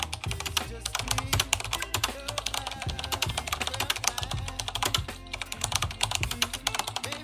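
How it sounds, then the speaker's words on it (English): A busy typewriter-style text animation effect in iMovie, made of rapid, continuous keyboard-like clicks and clacks in a dense, steady patter throughout, fairly close and even in loudness. "You're going to add sound to text so that when the text loads it makes nice noises."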